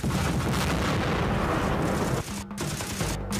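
Dense, continuous booming cannon fire and explosions in Beast Battle Simulator, loud and sustained, easing briefly near the end before a few more blasts.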